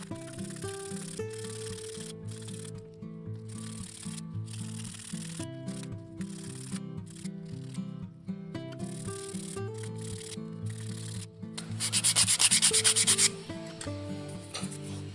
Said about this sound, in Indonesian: Langsung aja kita amplas ya untuk rapikan bagian depannya.